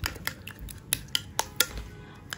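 A spoon whisks sour yogurt in a bowl, giving a series of light, sharp clinks at irregular intervals over a quiet kitchen background, close by and moderately soft.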